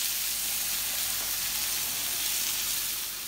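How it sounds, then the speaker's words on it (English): Chicken fajita filling with peppers sautéing in a hot pan, a steady, close, loud sizzle and crackle that runs unbroken with no talking. "So we're going to saute this down just a little bit"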